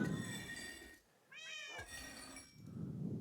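Cats meow indoors, one clear drawn-out meow standing alone in a quiet pause between stretches of low background noise.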